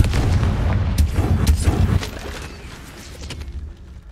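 A deep, booming magical blast from the Confringo spell in Hogwarts Legacy bursts out, then a rumbling explosion rolls on and fades into a quieter tail, with no voices.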